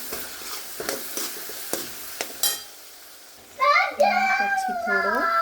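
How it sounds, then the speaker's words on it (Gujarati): Chili powder and turmeric stirred into a hot pan: several sharp scrapes and taps over a low sizzle, then a voice talks loudly over the cooking for the final seconds. "હવે એને થોડું હલાવી લઈએ આપણે."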